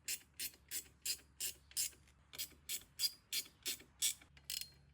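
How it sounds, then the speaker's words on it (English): A ratcheting wrench tightening bolts while installing an ARB twin air compressor: a steady run of about twelve evenly spaced, crisp clicking bursts, close and clear, with no talking. "Whoever invented the ratcheting wrench?"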